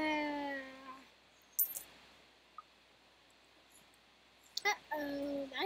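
Cartoonish meows from a cat enemy in a tower defense video game, a drawn-out tonal cry, then quiet with small clicks and pops, then another meow, loud and near.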